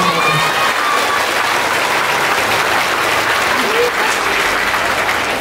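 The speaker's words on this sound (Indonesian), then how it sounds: "Tepuk tangan begini." Children clapping their hands together at an Islamic charity gathering, a continuous busy patter of many small hands with crowd noise and scattered voices mixed in.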